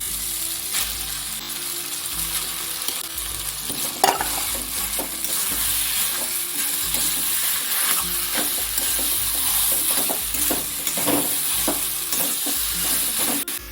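A spoon works mashed potato, banana stem and crushed nuts into a thick cutlet mixture in a hot pan, giving a continuous loud sizzle with repeated scraping strokes and occasional knocks against the pan, and no voices.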